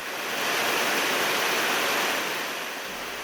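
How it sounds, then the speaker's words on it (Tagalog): Water rushes without letup at a landslide area on Kennon Road in Tuba, Benguet, a dense roar carrying thick mud, steady and fairly loud throughout with no other sounds. "Rumaragas ang tubig, makakapal na putik, at mayat mayang pagbagsak ng mga lupa at bato."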